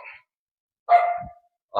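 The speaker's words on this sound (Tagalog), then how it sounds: "Pero may aso dito" A dog barks nearby in a residential housing block, a few short sharp barks separated by silent gaps, loud and close.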